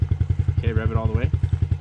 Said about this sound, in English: rev it all the way